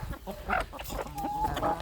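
Chickens cluck and murmur nearby in short, overlapping calls, a busy barnyard chatter with a few higher squawks.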